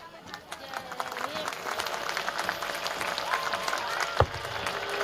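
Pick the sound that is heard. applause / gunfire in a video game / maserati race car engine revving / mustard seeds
applause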